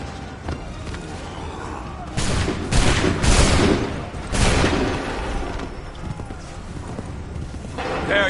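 Soldiers in Assassin's Creed 3 fire a musket volley, loud bursts of gunfire cracking over hoofbeats and shouted commands on a battlefield, with a second volley following moments later.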